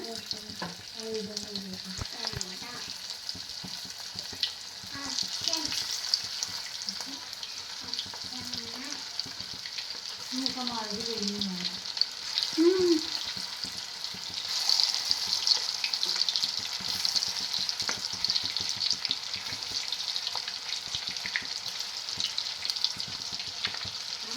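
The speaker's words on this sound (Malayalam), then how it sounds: "നമ്മുടെ ഒരു ട്രിപ്പ് ചിക്കൻ നമ്മൾ വറുത്തെടുക്കും ഇനി അടുത്തത് ഒരു ട്രിപ്പും കൂടി ഇടാൻ പോവാണ്" Pieces of mayonnaise chicken frying in hot oil, making a continuous close sizzle and crackle with faint stirring and scraping underneath.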